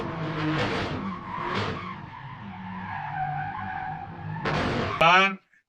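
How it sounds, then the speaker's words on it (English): A car's brakes and tires screech in a long rising and falling skid, loud and close, ending in a sharp squeal before cutting off. "you can say screeching of brakes"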